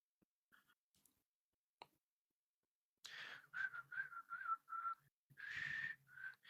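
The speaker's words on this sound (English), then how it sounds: "I don't know if you can tell by my poor whistling." Someone whistles a melody up close, with wavering sustained notes in phrases after a few quiet clicks and taps.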